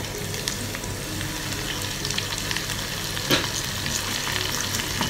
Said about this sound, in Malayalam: ഇനി നമുക്ക് കട്ട് ചെയ്ത് വെച്ചിട്ടുള്ള സവാള ചേർത്ത് കൊടുക്കാം.